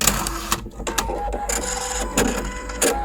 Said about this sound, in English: we can press the needle threader button here